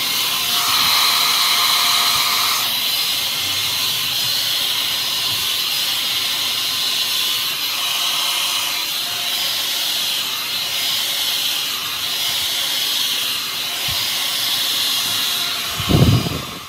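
Arzum Volume Pro hot-air hair straightener blowing air while drying hair, a steady loud whooshing hiss running throughout, with a brief bump near the end.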